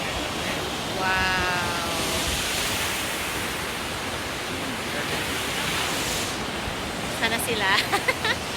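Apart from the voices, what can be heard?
Takakaw Falls waterfall roaring, Banff, Canada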